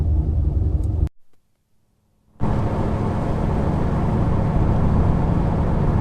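A vehicle with a new Dana S60 axle rumbles steadily while driving around to heat cycle it, the loud road and engine noise cutting out briefly before resuming at full strength.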